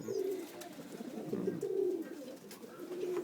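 Foreign-breed pet pigeons coo in soft, repeated rolling calls, close but quiet, with a faint background hum and no talking.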